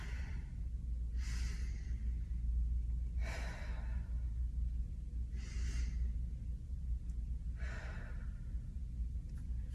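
Slow, deep breaths during a pelvic floor breathing exercise on a ball, four soft airy breaths evenly spaced over a low steady room hum, close and quiet with no talking.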